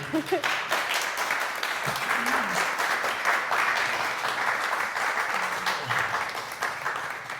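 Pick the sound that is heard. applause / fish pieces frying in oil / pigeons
applause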